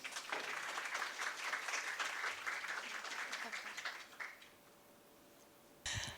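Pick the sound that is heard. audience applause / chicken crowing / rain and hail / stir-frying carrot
audience applause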